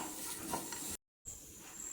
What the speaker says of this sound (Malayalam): ഇനി നന്നായിട്ട് ഇത് വറുത്തെടുക്കാം